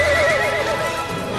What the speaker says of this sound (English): Are those dancing horses?